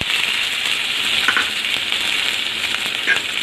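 Onions sizzling and frying in hot oil for bitter gourd thokku, a steady close crackling hiss with a few brighter pops, continuous throughout with no talking.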